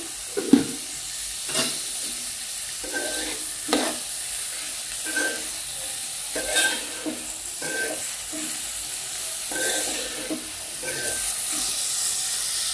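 Onions with a spoonful of salt cook in a pan, giving a hissing sizzle broken by repeated stirring scrapes and clanks at irregular intervals, close and fairly loud.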